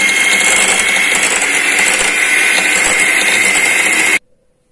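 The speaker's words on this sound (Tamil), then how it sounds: "நான் இப்போ நல்லா பீட் பண்ணிடுறேன்." An electric beater whirs loudly and steadily through cake batter for millet chocolate cake, a constant buzzing drone that cuts off abruptly near the end, leaving silence.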